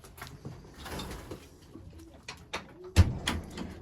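Racing pigeons softly cooing inside a loft at the end of the racing season, with low murmuring coos, a few faint shuffles and one louder knock near the end.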